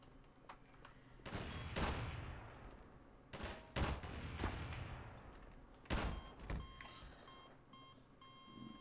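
Video game gunfire aimed at the player: several bursts of sharp shots and rapid volleys, loud and close, separated by short pauses, with a faint ringing tone beneath.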